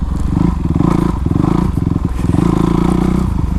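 A Honda CRF450 dirt bike being ridden, its engine a loud, continuous rough thrum with rhythmic pulsing and some clatter, close and unbroken by talk.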